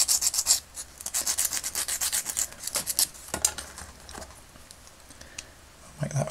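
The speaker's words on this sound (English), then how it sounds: "So just get the file onto that." A hand file scrapes back and forth in quick rasping strokes across the cut plastic knee joint of a vintage G.I. Joe figure, clearing spread-out burrs; close, uneven rubbing bursts with short pauses between.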